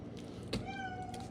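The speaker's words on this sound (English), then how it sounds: "Shut up, cat." A house cat lets out a single drawn-out meow, fairly faint and rising then holding, heard alone over quiet room noise.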